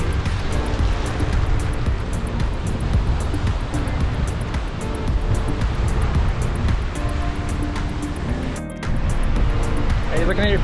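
Ocean surf breaking on a quiet beach in the Cayman Islands, a steady broadband roar of waves filling the scene with a brief dip near the end, while voices occasionally speak over it.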